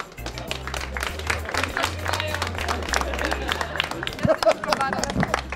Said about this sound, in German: Ein großer Applaus für Melina.